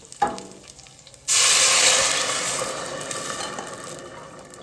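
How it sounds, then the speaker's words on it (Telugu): Hot water poured into a pot of rice and lentils for pongal, a small tap, then a sudden loud burst of hissing sizzle that slowly eases off, no talk. "నేను వేడి నీళ్ళు పోస్తున్నాను తొందరగా"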